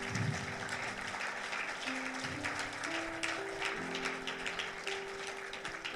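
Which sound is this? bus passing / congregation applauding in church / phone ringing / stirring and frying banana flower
congregation applauding in church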